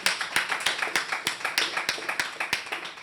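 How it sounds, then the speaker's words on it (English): A small podcast audience claps at an irregular, moderate pace for about three seconds, with close, sharp individual hand claps and no talking. "can y'all give her a clap of hand?"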